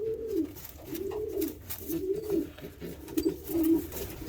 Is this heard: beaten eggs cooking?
no